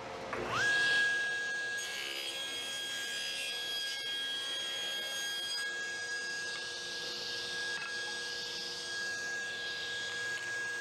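Wood boards full of big knots being sawn, a steady mechanical whine with a sustained high tone running under a broad gritty rasp, loud and close for the whole stretch with no talking.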